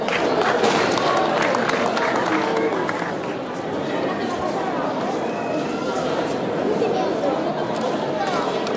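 An audience at an award ceremony at a grape fair claps in a sustained burst of applause mixed with crowd chatter, dipping briefly before swelling again.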